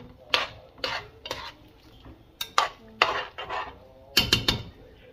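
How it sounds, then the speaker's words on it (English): A spoon stirs jambalaya in a pot after kitchen bouquet browning sauce is added, giving several distinct scraping, clinking strokes in an irregular rhythm, close and fairly loud with quiet pauses between. "Give it a good stir"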